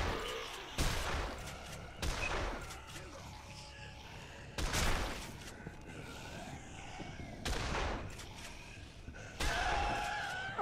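Shotgun blasts in the zombie video game Dead Island ring out as several sharp, separate booms spaced a second or two apart, with game effects in between and no talk.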